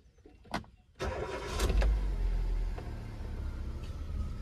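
A Hyundai i20 car engine cranks and catches after a couple of clicks, then settles into a steady low idle close by.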